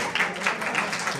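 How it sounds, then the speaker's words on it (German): A small audience at an art event in Berlin gives a short round of applause for the dancer Eva Maria Orban, a soft, diffuse wash of clapping heard from a slight distance. "Hätte ich gerne noch einen Applaus."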